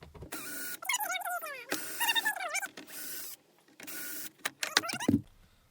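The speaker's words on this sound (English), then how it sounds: "And then I got my T25 here, and I'm just going to unscrew them." A T25 Torx driver backs screws out of the headliner of a Jeep Cherokee XJ, giving close, squeaky ratcheting and whirring bursts with short pauses and a few clicks near the end.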